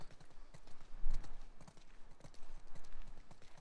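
Horse hooves clip-clop in the video game The Last of Us Part II, a quick, steady trotting rhythm of hollow knocks at close range with no voices present.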